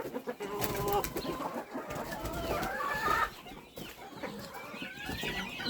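Backyard chickens cluck and squawk in short irregular bursts at close to middle distance, with other birdcalls mixed in against a farmyard background.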